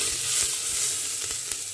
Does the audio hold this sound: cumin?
yes